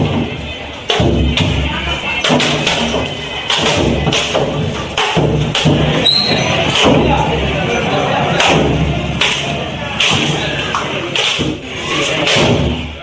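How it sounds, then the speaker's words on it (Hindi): Coconuts, 108 of them, are smashed in celebration of Vijay becoming Tamil Nadu's chief minister, giving repeated loud, sharp thuds over a noisy, cheering crowd. "108 नारियल चढ़ाए गए, जश्न में फोड़े गए"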